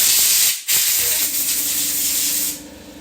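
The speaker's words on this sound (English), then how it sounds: "pat dry, then air compressor" An air compressor nozzle blasts a steady loud hiss of air to dry large clipper blades during sharpening, with a brief pause early on before the rushing air resumes and then eases slightly near the end.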